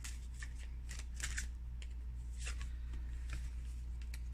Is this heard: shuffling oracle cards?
yes